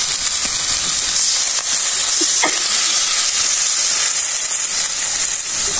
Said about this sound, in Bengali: এখন জল দিলাম